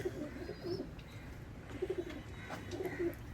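A Teddy breed pigeon gives several soft, low cooing phrases in short rhythmic bursts, close by, with faint chirps and light background noise around them.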